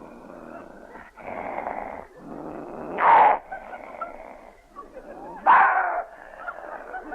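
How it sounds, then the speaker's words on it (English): Dogs fighting as a 1936 radio sound effect: rough growls and snarls run throughout, broken by two sharp, loud yelps or barks. "dog fight."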